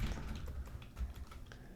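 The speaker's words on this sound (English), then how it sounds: "we'll type in callout" Quick, irregular taps on a computer keyboard, short clicks in a steady run of typing, fairly close and alone with no voices.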